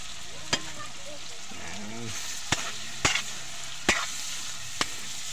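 Fried fish dropped into a hot pan of sautéing ingredients in a provincial home kitchen: a steady sizzle with several sharp clanks of utensil against pan, no talking.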